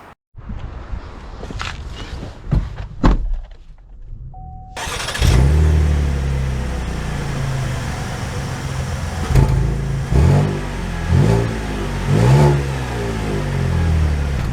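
A 2024 Buick Enclave Avenir SUV cranks and starts after a few door and cabin clicks, then its engine settles into a steady hum with rising revs as it pulls away, heard from inside the cabin.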